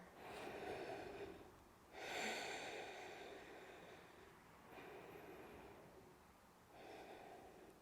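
Slow, deep breathing held through a yoga goddess pose: four long, audible inhale-exhale cycles, each a soft breathy rush close to the mic, with no talking.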